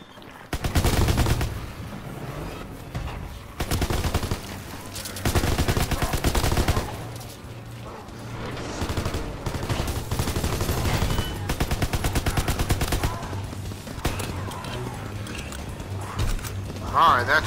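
A grease gun submachine gun firing in a zombies video game: loud bursts of rapid automatic fire come in several separate volleys, close and dominant, with a voice talking in the gaps.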